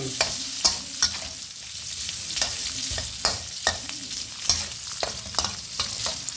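Minced pork stir-fried in a hot pan for white rice vermicelli, with a spatula scraping and knocking in a steady, uneven rhythm over continuous close sizzling. No voices.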